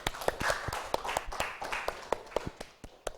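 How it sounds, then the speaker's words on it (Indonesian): A small group claps hands together during an Indonesian classroom lesson, sharp uneven claps repeating steadily for a few seconds, fairly close and moderately loud. "tepuk tangan untuk kita semua"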